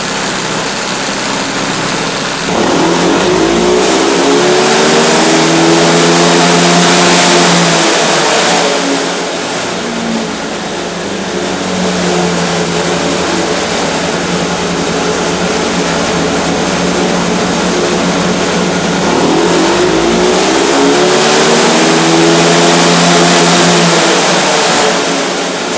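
A Sachs Madass 125 motorcycle with a Stage 1 tune runs on a dyno, its engine revving hard and sustained, rising and sweeping through repeated pulls, loud and close throughout with no talking.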